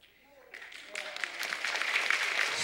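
Audience applause at a magic show, starting faint and building into fuller clapping from a crowd, with a voice speaking briefly at the start.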